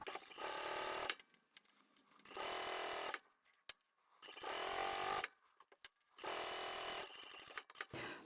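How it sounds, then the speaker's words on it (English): A sewing machine stitching a zippered fabric phone pouch, four bursts of fast, steady whirring with short pauses and small clicks between them. "place that under your machine. And we're going to sew up the opening first."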